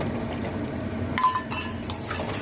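A small spoon clinks against a dish while rose water is added during cooking, a few bright, close metallic taps and a faint splash after a stretch of low kitchen background.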